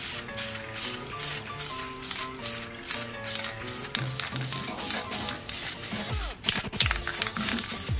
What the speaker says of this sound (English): we're just gonna take some VHT engine enamel like we always use and clear coat this sucker down